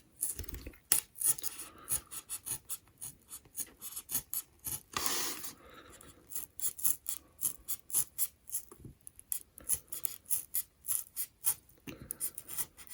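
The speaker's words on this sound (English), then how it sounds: "Then we take our X-Acto knife here, and we're going to just carve out that circle." An X-Acto knife carves a circle in a thin magnet for a 1/12-scale warehouse diorama, giving a long run of quick, close, rhythmic scratching and rasping strokes with brief pauses.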